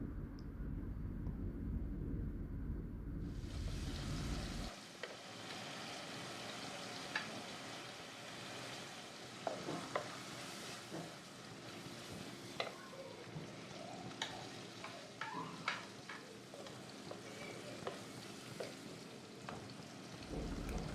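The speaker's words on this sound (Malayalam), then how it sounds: "ആ ഒരു സവാള ഇട്ട് കൊടുത്തിട്ട് നന്നായിട്ട് വഴറ്റി കൊടുക്കുക കേട്ടോ." Onion sautéing with salt in a pan, a soft continuous sizzle with scattered spatula scrapes and taps, quiet and close, after a loud low hum cuts off in the first few seconds.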